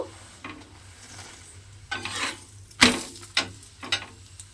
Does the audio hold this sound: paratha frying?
yes